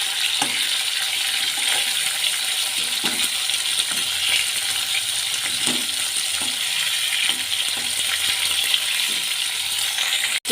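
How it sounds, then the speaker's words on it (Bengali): Chicken pieces frying in a kadai for chicken kosha, a steady loud sizzle throughout with occasional soft clinks and scrapes as the pieces are flipped, close up. "এবার আমি চিকেনগুলোকে উল্টে পাল্টে হালকাভাবে ভেজে নেব"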